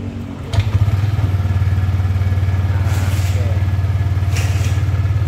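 A Yamaha Lexi scooter engine settles into a steady, close idle after a brief start-up burst, with no speech over it; the idle had been dropping out from an engine speed fault.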